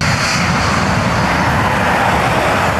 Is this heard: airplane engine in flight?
yes